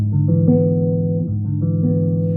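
Low, warm bass guitar notes are plucked one after another and ring together into an inverted chord, played clearly and close with no talking.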